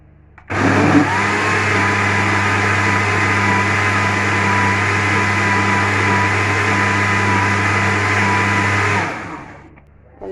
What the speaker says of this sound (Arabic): كده حطيت العدس اهوت في الخلاط وهضربه